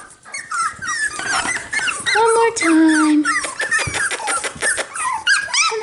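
Cocker spaniel puppies aged 6.5 weeks on a farm let out high whimpers, squeaks and yips, with a short growl, close by and mixed with a voice calling to them.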